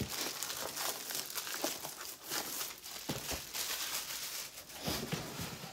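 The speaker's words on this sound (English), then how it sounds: "let's peel open the rest of the box" A cardboard beauty box being peeled open, its packaging crinkling and tearing in close, irregular bursts of crackle and rustle, with no talking.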